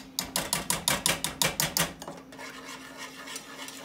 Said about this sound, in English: When you're whisking these potatoes, it's nice to have a pretty heavy whisk